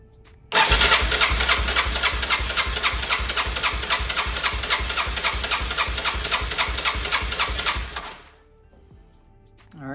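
A clapped-out Yamaha TTR 230 engine cranks over on a jump box during a compression test, a loud, rapid, rhythmic chugging for about eight seconds with no firing, then stops abruptly.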